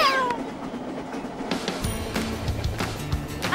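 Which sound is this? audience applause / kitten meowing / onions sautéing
kitten meowing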